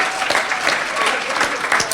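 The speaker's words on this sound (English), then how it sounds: "Give him a round of applause." Audience at a comedy show applauding a comedian as he is welcomed to the stage, a steady burst of clapping filling the whole short moment.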